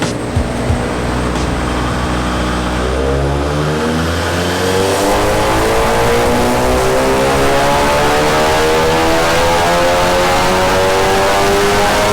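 A car engine revs up and holds high, its pitch climbing steadily in a loud, sustained roar, run on performance fuel until the engine dies.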